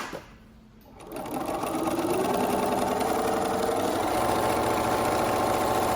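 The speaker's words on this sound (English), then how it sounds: "I'm gonna lower the foot, and I'm gonna start sewing all the way down the fabric." A sewing machine stitching a straight line down fabric with the presser foot lowered, starting after a brief quiet moment and settling into a loud, steady, fast mechanical whir close by.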